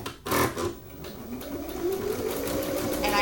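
A sewing machine runs a zigzag stitch at close range, a continuous fast mechanical whir and rattle after a couple of brief starting knocks.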